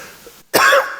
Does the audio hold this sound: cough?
yes